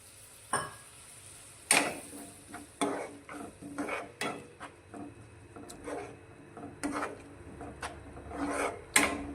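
A spoon scrapes and stirs spices in a pan with a little added water in a series of irregular strokes, with a soft sizzling underneath and no talking.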